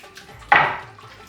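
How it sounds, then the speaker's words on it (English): One short, bright clink of a whisk against a bowl while oil, lemon juice and spices are mixed for tandoori chicken, close and clear over a quiet kitchen. "Now we have to mix it all this thing with the whisk until the oil dissolves"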